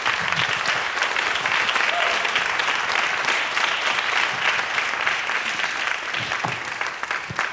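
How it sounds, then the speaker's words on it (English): Audience applause for the panelists and core team at a community conversation event on language access in Beverly; dense, steady clapping from a crowd that holds at full strength throughout, tapering just slightly near the end. "Please help me in giving our core team and our panelists a loud applause"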